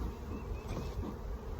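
Honey bees swarming around a backyard hive in spring give a steady, dense drone that stays close and constant throughout, with no talking.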